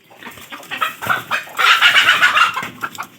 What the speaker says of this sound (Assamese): ইমান কাজিয়া কৰে মুৰ্গীবোৰে